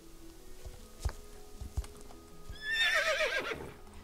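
Horse rearing in Star Stable: a few hoof thuds lead into a loud, wavering whinny that rises and falls over the last second and a half.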